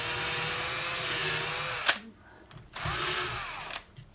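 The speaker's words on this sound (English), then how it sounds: "then we can drill with my drill the hole that's needed" An electric drill bores a hole in a building project, a loud steady whine for about two seconds, then a short pause and a second burst of drilling, close by with no talk.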